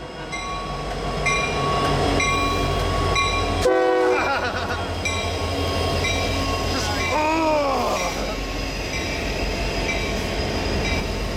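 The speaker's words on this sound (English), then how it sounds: "one more UP train is in store for us" A Union Pacific container transfer train rumbles past in Rochelle, Illinois, a loud continuous roll with a horn-like tone and squealing wheels sweeping through, heard close, with a voice speaking over it.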